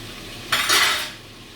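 A whisk scrapes and stirs through a stroganoff sauce of tomato paste and mustard in a pan, one short brisk swishing burst lasting about half a second, close and alone.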